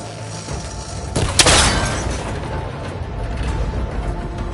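Shot striking and snapping a cable connector in Horizon Forbidden West, a sharp impact followed by a bright metallic break and shattering burst, then a mechanical rumble settling into steady background noise, with no talking.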